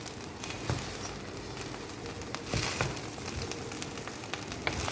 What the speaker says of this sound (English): We are adding our eggs to it. We're going to stir it together